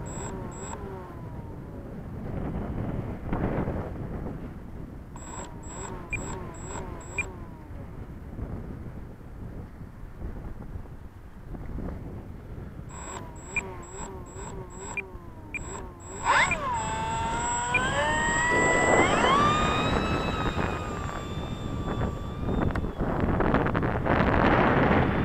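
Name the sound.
Dynam P-47 RC plane motor running at half throttle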